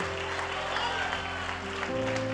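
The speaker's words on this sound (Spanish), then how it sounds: "Dale un aplauso a Dios y a su nombre." Congregation applauding during an evangelical church service, a steady wash of clapping under a sustained organ or keyboard chord, with some voice mixed in.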